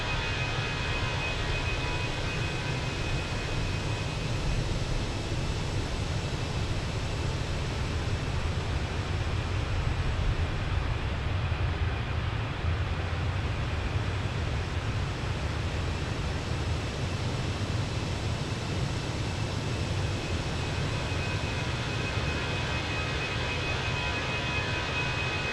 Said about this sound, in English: It's great watching takeoffs from the outside.